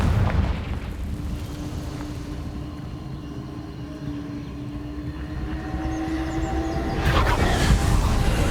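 Confringo fire spell blasts in Hogwarts Legacy erupt as two short, loud bursts, one at the start and one near the end, over a low continuous rumble.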